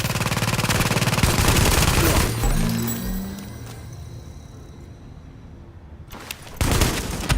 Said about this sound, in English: And I'm going to switch back to my automatic rifle.